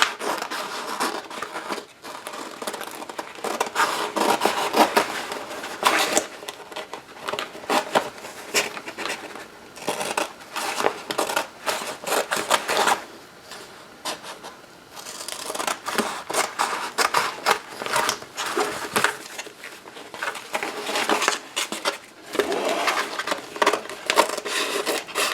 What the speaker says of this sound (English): Then I can take my scissors.